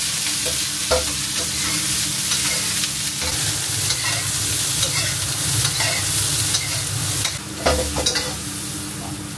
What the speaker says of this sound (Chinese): 一直把这个牛腩炒到微微发黄